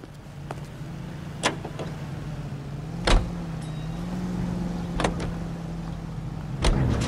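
Car driving in the L.A. Noire video game: a steady low engine drone runs throughout, broken by several sharp, brief knocks or bumps, with no talk over it.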